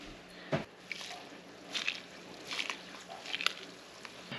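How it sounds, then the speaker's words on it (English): Rinsed elderflowers tipped into a pot of hot simple syrup for cordial, giving a soft wet plop followed by faint squishing and light dripping, quiet and close. "Just gonna pour them in here."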